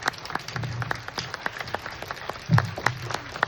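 A cinema audience applauds a director and cast at a special screening of a 4K restoration of Anita, with scattered, uneven claps from a smallish crowd and a brief louder burst partway through.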